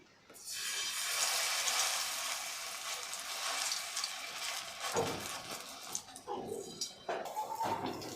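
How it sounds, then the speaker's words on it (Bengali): Taro (kochu) fritters frying in hot oil in a wok give a steady, loud, close sizzle that starts after a quiet moment and continues throughout, broken near the end by a few sharper crackles and bursts. "এখন তেলের মাঝখানে সবগুলো কচুর বড়া একে একে দিয়ে দিব।"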